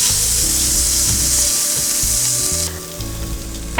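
Rice stirred into onions frying in butter gives a loud, close, continuous sizzle with scraping stirring strokes, the hiss dropping somewhat near the end; no one speaks.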